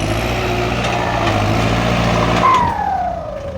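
A truck engine pulls hard under load and the driver shifts into second gear: a loud, close roar, then a brief surge and a pitch drop at the shift before the engine climbs again.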